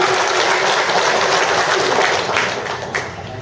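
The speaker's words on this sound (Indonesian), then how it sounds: "Tepuk tangan yang lebih meriah untuk relawan hebat." Dense, steady applause from a large audience cheering volunteers at a regional rally, a continuous wash of clapping at full strength that eases slightly toward the end.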